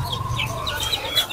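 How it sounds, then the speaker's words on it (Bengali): Layer hens clucking at a busy poultry market, several birds calling in short overlapping bursts close by, with steady crowd murmur and market bustle underneath. "এগুলা ভাই লেয়ার মুরগি, লেয়ার"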